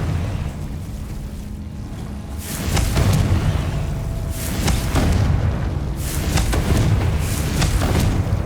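Confringo spell explosions in Hogwarts Legacy, several loud booming blasts with rumbling tails over a steady, roaring background.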